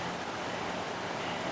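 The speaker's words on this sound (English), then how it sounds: "Can you hear the creek?" Creek water runs steadily past a farm among trees, a continuous broadband rush with no break, heard outdoors with no talk.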